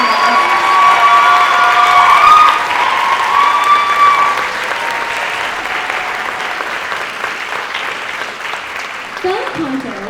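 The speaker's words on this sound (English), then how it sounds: "Let's give them a round of applause." An audience at a school spring choir concert applauds loudly with some cheering, dense clapping that swells early and then gradually thins and fades over about ten seconds.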